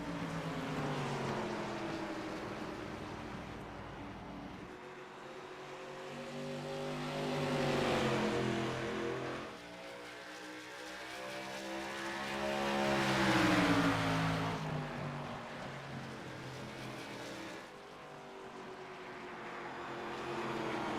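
Race cars sliding through turn 4 on an oval racetrack during the Milwaukee 150: engine roar swells as cars approach and fades as they pass, twice over, with a steady distant drone between passes.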